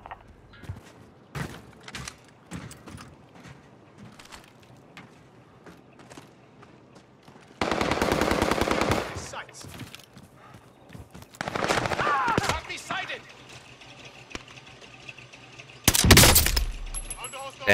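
Gunfire from the video game Call of Duty crackles through the clip in scattered single shots, then in longer loud bursts of automatic fire. A sharp, heavy final burst comes close, with quieter stretches of game sound in between.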